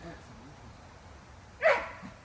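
Dogs brought to the water's edge for a swim let out a short burst of barking near the end, close and fairly loud, over faint outdoor ambience with people speaking nearby.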